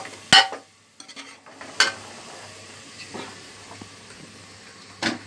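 Sliced onions frying golden brown in a pot for Champaran-style handi mutton latpat, a faint steady sizzle broken by several sharp clanks of a spoon stirring against the metal pan.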